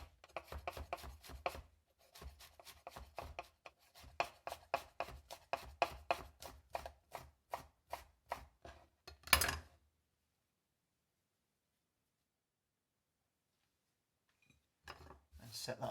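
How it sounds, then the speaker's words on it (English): Fresh sage being finely sliced with a knife on a board, a rapid run of crisp even chops close up that stops abruptly, a long quiet gap, then a few more cuts. "So the first thing is your sage. Just want to really finely slice that."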